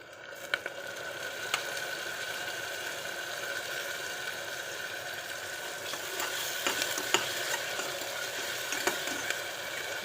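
Onions with ginger garlic paste sauté in oil in a pan, making a steady soft sizzle with intermittent scraping and stirring clicks throughout, fairly faint and close.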